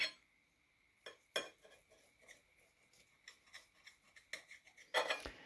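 A knife scrapes and taps against a plate or pan while a Spanish potato tortilla is cut into four pieces, with soft irregular rasps and a sharper clink near the end, quiet and close.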